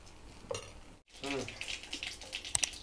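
Water is sprinkled onto a hot pan while making carrot dosa, giving a brief soft hiss and crackle after a short silent gap, faint and close, with a voice speaking quietly at times.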